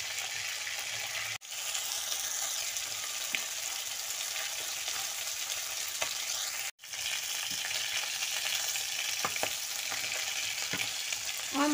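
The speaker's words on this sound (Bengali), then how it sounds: "আমার মাছটা ভাজা হয়ে গিয়েছে" Bhola fish fries in oil with a steady, close sizzle that runs throughout, briefly cut off twice, with faint clinks and stirring over it.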